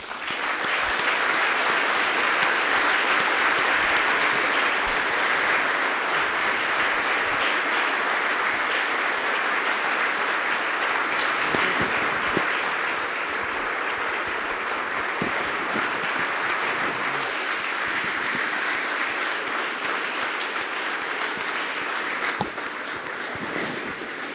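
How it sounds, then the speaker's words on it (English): Long, sustained applause from a large audience honoring Gordon Moore and Carver Mead at a Moore's Law 40th anniversary event, a dense, steady roar of clapping that holds loud for the full stretch with only slight dips. "that's the longest applause I think I've ever heard, Gordon and Carver"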